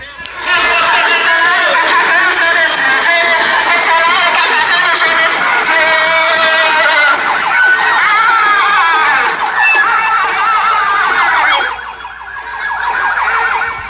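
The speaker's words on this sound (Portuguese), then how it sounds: "Passou até a ambulância." An ambulance siren wails loudly through a street protest in Vitória da Conquista, its rising and falling tone sustained over a dense crowd with cheering and voices throughout, fading near the end.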